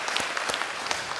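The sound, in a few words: church congregation applause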